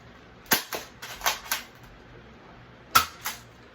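Nerf cylinder-fed toy blaster firing several sharp plasticky shots, a quick cluster of four to five pops followed after a pause by two more, close and clear with no talking.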